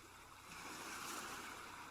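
Soft, steady ocean waves wash in a continuous broadband hiss, swelling slightly partway through, played as a quiet ambient background with no voices.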